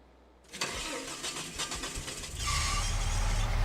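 A pickup truck engine cranks over and catches in Farming Simulator 22, with a rhythmic starter chatter building into a loud, rough idle. The truck's belts are loose, and the engine holds steady and close with no talking.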